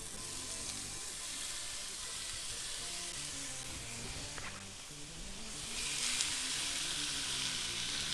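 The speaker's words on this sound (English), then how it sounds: "So I'm going to brown my meat in my frying pan." Meat browning in hot oil in a frying pan for chili gives a steady, close sizzle and crackle that holds level throughout and grows slightly louder and brighter near the end.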